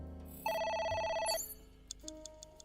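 A telephone bell rings loudly for about a second, a bright electronic trill that cuts off, followed by quieter clicks and a low tone in a hushed room, no talking.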